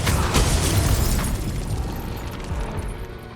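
A fire spell erupts in Hogwarts Legacy, one close, heavy whooshing blast with a deep rumbling boom that decays over a few seconds.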